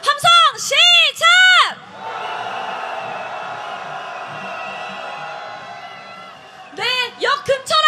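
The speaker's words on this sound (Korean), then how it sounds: "이 홍대 입구역에 모여 계신 모든 분들 다 같이 분노의 함성 질러보면 좋겠습니다" A protest crowd gathered near Hongik University station in Seoul roars together in a long, sustained shout lasting several seconds, framed by loud amplified voices before and after.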